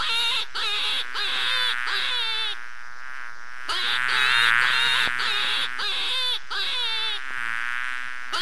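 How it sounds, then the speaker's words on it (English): A queen bee buzzes loudly and continuously up close, a high droning whine that swells and dips in short bursts with brief gaps between them. "Queen bee."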